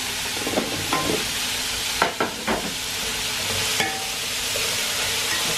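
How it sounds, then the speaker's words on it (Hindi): Boiled peas and chopped capsicum are stir-fried in a hot pan for restaurant-style Chinese biryani. A loud, steady sizzle runs under several sharp spatula scrapes and clatters close up. "मटर थोड़ा इसको भूनेंगे। साथ ही ये शिमला मिर्च भी ऐड कर देंगे।"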